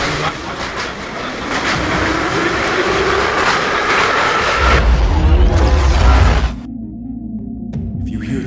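A train runs on rails with a loud, continuous rumble and clatter, swelling to a heavier low roar before cutting abruptly to a quieter hum.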